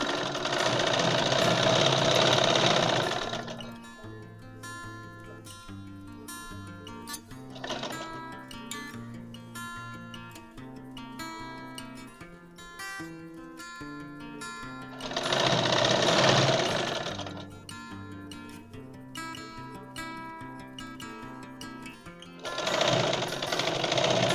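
A sewing machine stitches the seam of straight pants in three loud bursts of rapid, even mechanical chatter, with quieter stretches between them as the machine idles and is handled.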